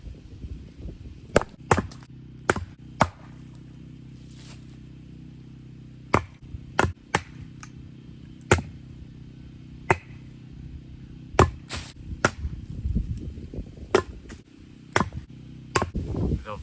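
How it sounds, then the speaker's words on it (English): A Viking wood splitter cracking through logs, giving sharp, loud, isolated chopping strikes spaced irregularly across the stretch, with quieter rustling and handling noise between blows. "On to our third and final contender, the Viking wood splitter."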